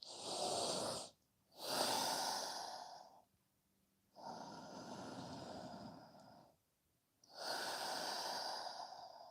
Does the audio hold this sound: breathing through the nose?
yes